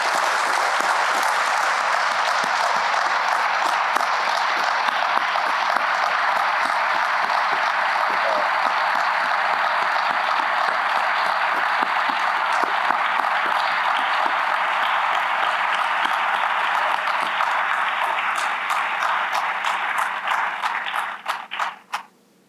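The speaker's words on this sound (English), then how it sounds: "Let's give her another round of applause." An audience at a Military Women's Memorial 25th anniversary program applauds in a steady, dense wash of clapping for about twenty seconds, then tapers off quickly to silence.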